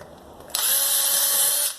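A power drill pre-drilling screw holes in wood spins up sharply after a short quiet lead-in, then holds a loud, steady high whine for about a second before winding down, with no talking.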